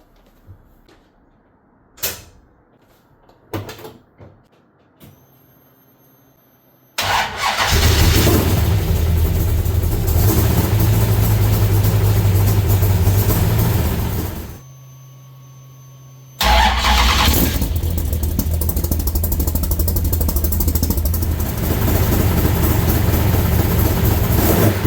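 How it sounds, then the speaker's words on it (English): A 1969 Barracuda with a 493 stroker engine and Magnaflow glass-pack exhaust: a few clicks and clunks, then the engine fires and settles into a loud, rumbling idle, cuts briefly, and restarts to a deep steady burble. "I think we can actually start the car now"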